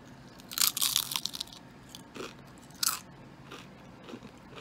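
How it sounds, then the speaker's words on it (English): Crisp crunches from homemade vegan chips being bitten and chewed: a dense burst of loud crackling bites early on, then a few separate sharper crunches spaced apart, close up with no talking. "I just want you to literally hear this crunch"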